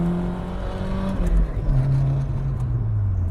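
A 1990 Nissan 240SX S13 with a swapped, louder differential and an HKS cat-back exhaust accelerating hard, engine tone climbing through a steady pull with a whining drivetrain hum, close and loud inside the car.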